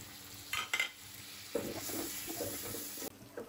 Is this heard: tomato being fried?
yes